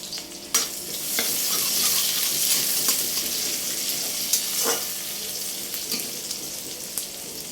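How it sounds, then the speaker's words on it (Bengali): Onions frying in a pan on a home kitchen stove, a steady close sizzle with occasional stirring scrapes and clinks, no talking. "পেঁয়াজটাকে একটু লাল লাল করে ভেজে নিচ্ছি"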